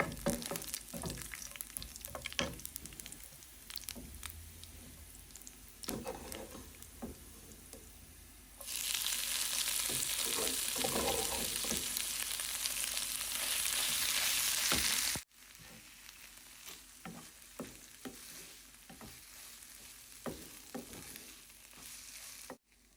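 Red amaranth greens hit hot tempered oil in a pan with a loud, steady sizzle lasting several seconds, framed by quieter frying, stirring and clinks.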